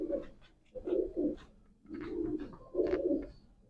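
A breeder pigeon held in the hand gives soft, low cooing: three throaty rolling phrases, close and fairly quiet, with no talking.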